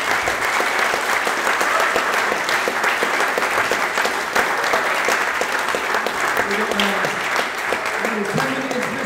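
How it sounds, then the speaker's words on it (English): Sustained audience applause at a squash exhibition match, Legends of Squash in Bermuda, dense steady clapping filling the space throughout, with faint voices mixed in underneath. "Huge round of applause for our two awesome legends."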